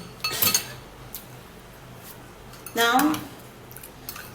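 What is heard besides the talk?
stirring juice mixture with a spoon in a bowl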